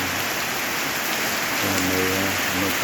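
Heavy night rain pours steadily in Iloilo, a dense, even hiss close by with no breaks, while a faint low tonal hum rises briefly near the end.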